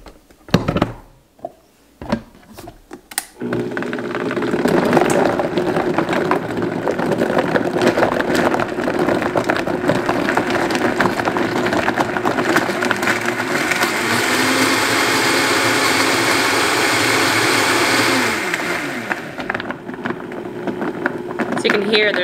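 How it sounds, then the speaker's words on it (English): A blender runs steadily, blending kefir with frozen strawberries, after a few knocks at the start; the motor drones loudly and evenly while hard frozen fruit chunks rattle and clatter, then the motor winds down near the end. "So you can hear there's still some frozen strawberries in the bottom. You hear them rattling around."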